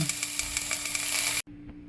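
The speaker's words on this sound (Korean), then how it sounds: "같은 후라이팬에 피망을 넣고 가볍게 구워줍니다" Steady, loud sizzling of bell peppers frying in a hot frying pan, with faint clicks, cutting off abruptly before a quieter hiss resumes.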